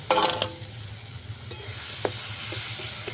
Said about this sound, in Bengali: পেঁয়াজটা টমেটোটা কষিয়ে নেবো